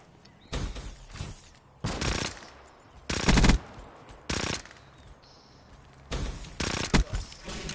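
Bursts of video game gunfire come in six or seven loud volleys of automatic shots, each about half a second long, with quieter gaps between them and no talk.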